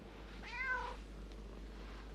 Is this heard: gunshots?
no